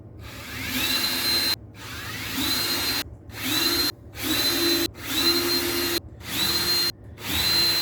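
A power drill bores pilot holes in wood, about seven short whining bursts in a steady rhythm, each one cutting off sharply before the next, loud and close.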